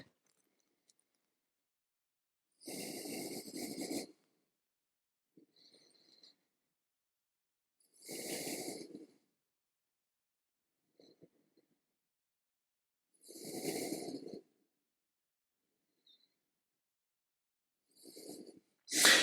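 Slow, deep breathing during a yoga downward dog pose, with four long audible breath bursts spaced several seconds apart in a quiet room.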